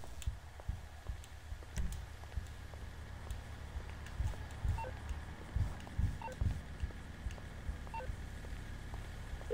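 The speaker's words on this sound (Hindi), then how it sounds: "ओके गाइस, लेस्टर को डायल कर रही है" A phone dialing Lester in GTA V: a series of short, quiet clicking keypad beeps and taps, spaced irregularly over a low steady background hum.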